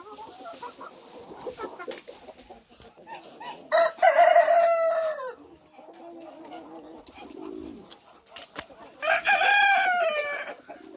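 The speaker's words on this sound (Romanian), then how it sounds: "patru cocoși." Four roosters in a backyard poultry flock crow in turn, two long, loud close-up calls standing out amid clucking, pigeon coos and other faint bird sounds.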